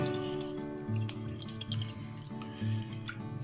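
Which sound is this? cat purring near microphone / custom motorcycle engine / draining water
draining water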